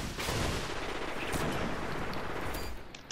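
Sustained rapid gunfire in Destiny 2's Trials of Osiris, a dense steady burst of shots lasting about three seconds before tapering off at the end, no talk over it.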